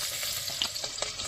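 Garlic sautéing in a pan gives a close, steady sizzle and crackle, with a few soft scrapes of stirring, no talk.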